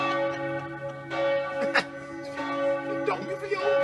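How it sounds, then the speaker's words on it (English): Church bells dinging and donging somewhere in France or Spain, a steady sustained peal with repeated strikes ringing out at moderate distance, with faint outdoor sounds and no talk. "It's a great noise though, the donging. The dinging and donging."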